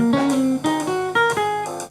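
Clean jazz guitar plays a quick arpeggio lick, a handful of bright, sustained plucked notes in a brisk run with no talking.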